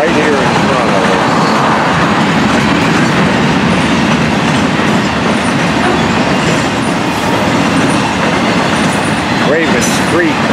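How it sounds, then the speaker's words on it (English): An FEC freight train rolls past close by, a loud, continuous roar of wheels and rail cars with rhythmic clatter and occasional high squeals, and voices underneath. "So that this train can get on the side."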